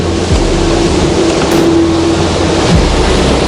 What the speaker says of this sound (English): the wind's really howling